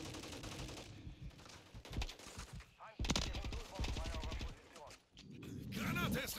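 Rapid bursts of automatic gunfire and explosive impacts from a Call of Duty Modern Warfare 3 battle, loud and close, mixed with game voices and chatter throughout.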